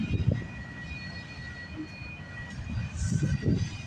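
A long freight train loaded with auto racks rolls past a trackside spot in the cold early morning, a continuous low rumble with faint rattling and a thin steady whine, no voices.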